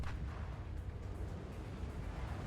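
Heavy battleship main-gun salvo in World of Warships, fired from a Kremlin at a Flandre: a sustained low, rumbling boom that fills the clip with dense, steady energy and no voices.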